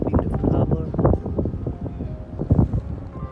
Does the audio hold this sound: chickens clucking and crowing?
no